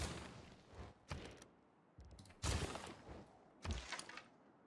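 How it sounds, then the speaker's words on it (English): Artillery fire in a strategy video game: several separate booming blasts at irregular intervals, each with a short rumbling decay, fairly faint overall with quiet gaps between. "I think I just need artillery here to finish and tie him up."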